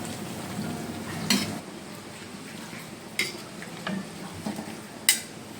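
A pan of string beans adobo with oyster sauce, sugar and cornstarch being stirred: a soft, steady sizzle with scattered clinks and scrapes of the utensil against the pan.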